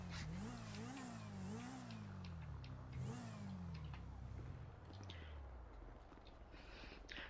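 A car driving in a roleplay video game, its engine revving up and down in repeated rising and falling sweeps before settling into a steadier hum, fairly close and continuous, with a faint voice in the background.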